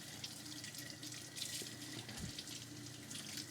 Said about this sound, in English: I'll go ahead and turn the water on, turn the disposal on if there's any food, rinse the brush first